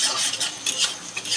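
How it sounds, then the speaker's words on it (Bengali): Crushed garlic and spices are stirred in a hot pan, giving a near scraping and clinking of the utensil over a soft sizzle in uneven strokes, no voices. "ভালো করে নাড়াচাড়া করে নেব।"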